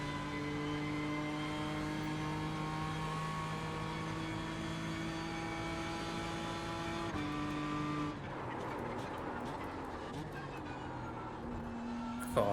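A BMW M4 GT3 race car engine in iRacing drones steadily at high revs with sustained tonal harmonics, then shifts pitch as the car brakes and downshifts near the end.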